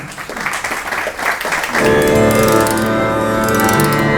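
An audience claps for a performer of a Punjabi classical music program, with dense applause for about two seconds before sustained instrumental tones take over, loud and close.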